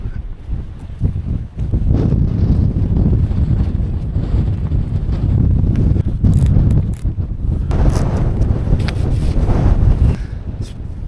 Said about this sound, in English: that wind is freezing.